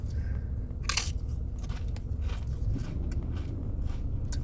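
Close crunching bites and chewing of Clancy's nacho cheese tortilla chips, a few sharp crackling crunches followed by softer ongoing mastication, no talking.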